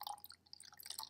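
Liquid is poured into a beaker during a chalk stoichiometry lab, giving a faint, close trickle broken by small irregular drips and splashes against glass.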